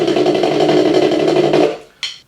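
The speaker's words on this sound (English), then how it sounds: "So the multiple bounce roll, it is kind of one of those forgotten rudiments," A snare drum sounds a dense, continuous multiple-bounce buzz roll, close and fairly loud, stopping abruptly with a short sharp accent afterward.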